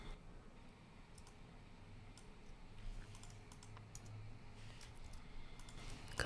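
Computer keyboard keys click and clack at a fast, uneven typing pace in a music mixing studio, faint and close, over a low steady hum with no talk.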